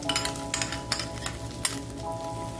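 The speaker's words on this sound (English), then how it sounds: "Ngayon guys ay sunod na po natin yung sibuyas." Onion sautéing in a hot pan, sizzling loudly and steadily, with scraping sounds from stirring and a faint clink of utensils close by.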